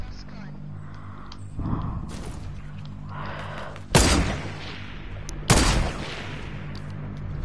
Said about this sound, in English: Are you just firing shots everywhere?